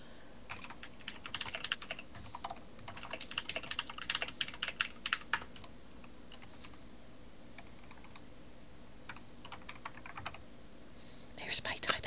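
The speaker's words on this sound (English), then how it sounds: "Here's my typing. Somebody's typing. People are typing." Rapid typing on a computer keyboard during an online game of Town of Salem, bursts of close, crisp key clicks that pause and resume, with a few faint voices underneath.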